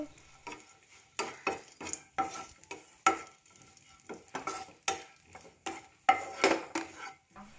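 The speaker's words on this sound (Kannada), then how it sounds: "ಒಂದು ದ್ರಾಕ್ಷಿ ಫ್ರೈ ಮಾಡ್ತಗ ಮಸ್ತ್ ಫ್ರೈ ರೆಡ್ ಜೀವಂತೆ ಫ್ರೈ ಆಂಡೆ ಅವು" Raisins frying in a pan for dry fruit laddu, stirred with a steady run of short, crisp spatula strokes against the metal over a faint sizzle, about a dozen sweeps in a regular rhythm.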